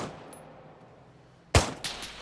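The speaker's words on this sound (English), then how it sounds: "I'm taking far too much accurate fire there" A single sharp gunshot cracks out in the military shooter Arma 3 after a stretch of low ambient outdoor rumble, followed by a fainter second report.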